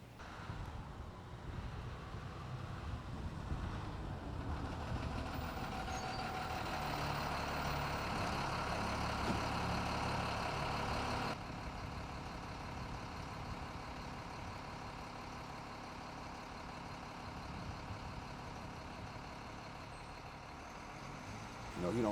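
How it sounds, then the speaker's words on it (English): A school bus pulls up outside a house, its engine rumbling loudly and steadily before the sound drops suddenly as it stops, with a faint hiss at the end. "Usually just stay here, wait on the bus to come."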